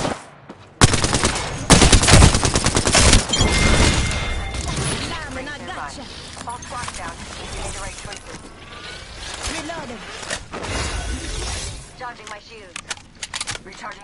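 Gunfire from the video game Apex Legends, played on a PS5, comes as rapid automatic bursts and scattered shots, loud at first and then sparser, with game voice callouts mixed in.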